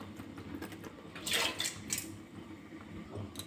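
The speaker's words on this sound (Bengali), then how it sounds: "এবার আমি এই চালগুলো দিয়ে দিচ্ছি।" Washed rice tipped into a pot of hot water on a gas stove, giving a brief close burst of pouring, splashing rattle over a low steady kitchen hum, with no talking.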